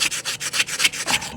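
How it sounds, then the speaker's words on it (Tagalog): Coarse sandpaper is rubbed back and forth on a metal shaft during a repair, giving about ten quick, even, rasping strokes at a steady rhythm, close and loud. "Tirahin natin muna ito ng medyo magaspang na liha."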